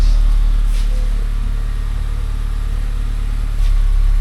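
A 9th-generation Honda Accord with an aFe Takeda axle-back exhaust idles steadily with a deep, low exhaust rumble, constant and moderately loud throughout, with no talking.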